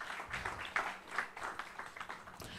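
Faint, distant round of audience applause at a herbal medicine scientific conference, steady scattered clapping from a crowd lasting a few seconds.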